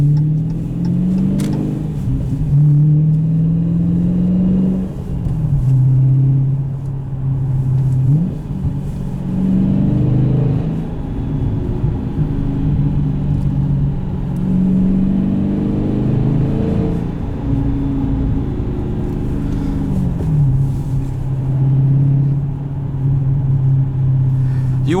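A 2019 Dodge Challenger T/A 392 V8 drives along with a deep, loud rumbling drone, rising and falling with throttle changes and occasional low burbles, close and continuous, with someone talking over it.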